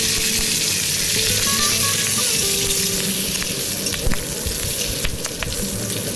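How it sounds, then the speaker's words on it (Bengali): Broken green chillies fry in hot oil in a wok, making a loud, dense, continuous sizzle with a few sharp pops and crackles toward the end. The sound is close, with no talk. "কড়াইয়ের মধ্যে তেল দিয়ে দিলাম দিয়ে আমি কয়েকটা কাঁচা লঙ্কা ভেঙে তেলের মধ্যে দিয়ে দেব"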